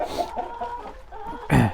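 A hen clucks softly in short, low bursts, ending in one louder squawk up close.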